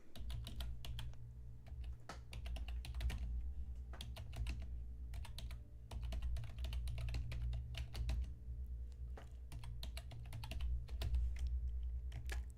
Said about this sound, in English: I'm sorry for the loud clickety clicks of my keyboard. I do not have a quiet keyboard.